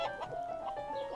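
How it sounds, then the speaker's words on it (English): Farm chickens cluck in short, repeated bursts, a close steady chatter of fowl calls over a brief moment with no voices. "The giggly farmer took us to see the chickens."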